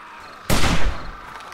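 A single loud gunshot in the survival video game 7 Days to Die, a sharp blast followed by a decaying reverberant tail.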